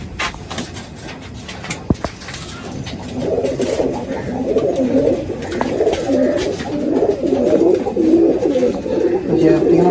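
Pigeons coo steadily inside a pigeon loft, a dense layered murmur of several birds that swells after a few seconds and continues throughout, with a sharp knock near the start.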